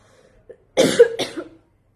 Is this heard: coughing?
yes